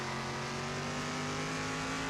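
A stock car engine held at full throttle in the Circuit Superstars racing game, a steady loud drone with strong harmonic whine that holds unbroken and close throughout, with no talking.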